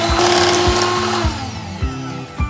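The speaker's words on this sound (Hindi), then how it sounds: "हमने 2 मिनट के लिए इलेक्ट्रिक बीटर को इसमें मिक्स करना है।" An electric hand beater whips cream mixed with custard for homemade ice cream. Its motor whirs loudly and close, with rhythmic thumps as the beaters knock the bowl about twice a second.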